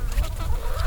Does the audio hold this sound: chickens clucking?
yes